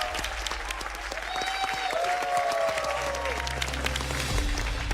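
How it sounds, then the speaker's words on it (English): Studio audience applauding steadily for an eliminated contestant on a television game show, a dense wash of clapping that holds at an even level for the whole stretch. "Give her a round of applause."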